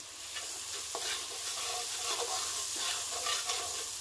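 Onion and garlic fry in hot oil in a pan for a spicy anchovy chili sambal, giving a steady, close sizzle with intermittent scraping stirs throughout and no voices.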